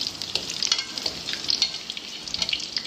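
Whole green cardamom and whole cumin seeds stirred as they fry in hot oil for a potato curry, giving a close, continuous crackling sizzle with light stirring scrapes.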